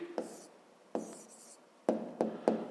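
A pen writing an answer by hand on paper, several short scratchy strokes in separate bursts, close and quiet in a still room.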